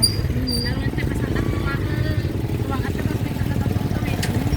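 A motorcycle ridden fast along a road in Luna, its engine droning steadily and close throughout, with people talking over it.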